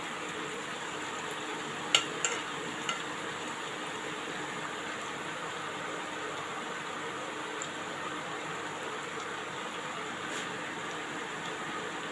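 Banana mandazi dough frying in hot oil, giving a steady, even sizzle with a few small pops and clicks near the start.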